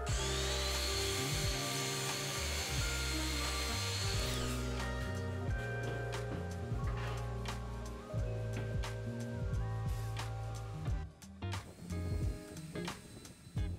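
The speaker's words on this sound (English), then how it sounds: "I attached the pieces together using some pocket hole screws." Pocket hole screws driven into 2x4 wood framework for a range hood build with a power drill, repeated short whirring bursts with rhythmic stops and starts, close and moderately loud.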